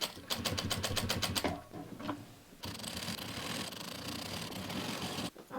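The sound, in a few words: sewing machine stitching upholstery fabric for footstool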